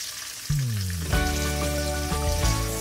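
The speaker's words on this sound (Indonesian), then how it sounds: "Tomat kita tumis sampai dia matang." Tomatoes sauté in a hot pan for a vegetarian sambal, giving a steady close sizzle that thickens and brightens about halfway through and then holds evenly with no talking.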